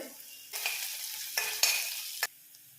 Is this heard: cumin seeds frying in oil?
yes